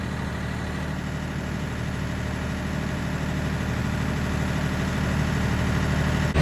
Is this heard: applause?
no